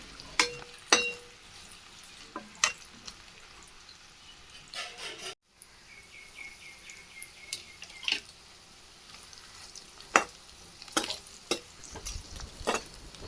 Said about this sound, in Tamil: அது எண்ணெயில் போட்டு வெறும் வாழைக்காய் லைட்டாக உப்பு போட்டு